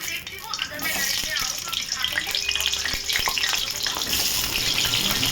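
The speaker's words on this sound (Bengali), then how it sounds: "এবার এই তেলে আমি আলুটা ভেজে নেব ভালো করে" Potatoes frying in hot oil for a Bengali egg curry give a steady, close sizzle with soft scraping clicks from stirring, and a voice speaks over it.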